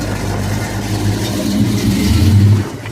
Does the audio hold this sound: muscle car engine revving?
yes